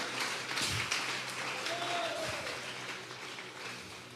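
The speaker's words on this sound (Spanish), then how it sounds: "Vamos a regalarle ofrenda de palmas al Dios de la gloria." Church congregation at a Sunday service giving a round of applause as an offering of praise, a moderately loud wash of clapping that gradually thins, with faint voices mixed in.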